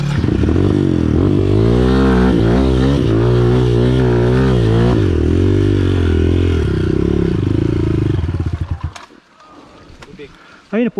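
A trail motorcycle on a dirt trail revs hard and loud close to the rider, its engine note rising and falling in pulses for about eight seconds before cutting off abruptly, followed by faint clatter.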